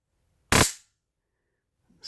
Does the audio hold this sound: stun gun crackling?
yes